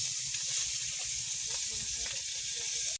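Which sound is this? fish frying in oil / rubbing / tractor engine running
fish frying in oil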